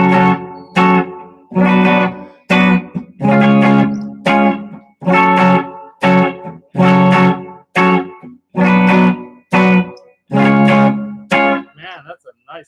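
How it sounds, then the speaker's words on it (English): An electric guitar with added reverb strums a steady series of loud, bright chords, roughly one per second, and a shimmering reverb tail trails off after the last one. "Let's get a little reverb on that."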